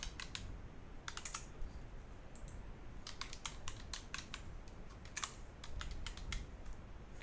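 A username and password are typed on a computer keyboard, quiet irregular clusters of key clicks close by, with no voices.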